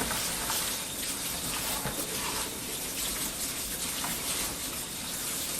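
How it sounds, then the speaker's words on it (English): Fresh tap water running steadily over mushrooms being rinsed in a kitchen sink, a loud continuous gushing splash with no pauses. "Now I'm going to give it a good rinse with the fresh water."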